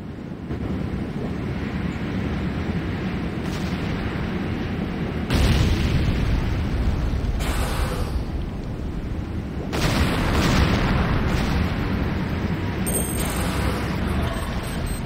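Heavy rumbling blasts and roaring destruction fill a Renegade battle as C4 brings down a GDI building, a continuous dense roar with several louder surges, no voices over it.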